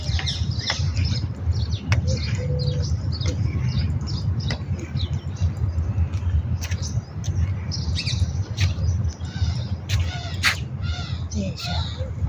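Crows caw repeatedly amid chirping and squawking birds in an outdoor setting abroad, the calls scattered across the whole stretch over steady low background noise, with a voice talking underneath.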